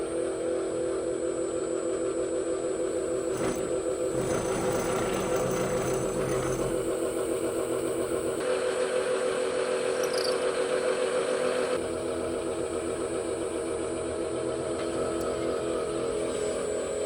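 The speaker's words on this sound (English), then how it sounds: "Now I'm going to start off with this little pilot drill" A small pilot drill bores into a resin shift knob marked with blue depth tape, giving a steady whirring drone with a few shifts in pitch and load as it runs continuously for the whole stretch, with no talking.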